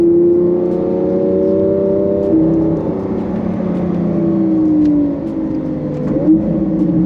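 A Lamborghini Aventador LP 700-4 V12 engine drones while driving in third gear, holding a steady, loud tone that climbs, dips briefly at a shift in load, then rises again. Nobody talks.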